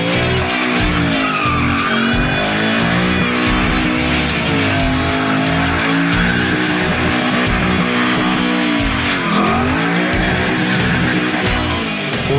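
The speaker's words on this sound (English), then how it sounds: "Whether it's squealing its tires on a burnout," A Mustang GT500 doing a burnout gives a continuous loud tire squeal over a roaring V8, with rising and falling screeching tones and rapid rhythmic pulsing, heard close throughout.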